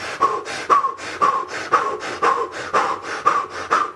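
A person does a rapid rhythmic breathing exercise, about eight quick forceful breaths in steady succession, close and clear with no talking.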